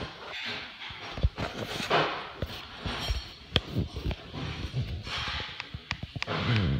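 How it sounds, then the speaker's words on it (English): A spoon stirs yogurt for a small child, giving a run of small, close scrapes and clinks against the container in an uneven rhythm. "Stirring your yogurt."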